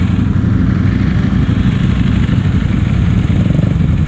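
Ducati Panigale V4 engine under way on a road ride, a loud, dense, continuous engine roar with steady low rumble and wind noise, close to the rider throughout.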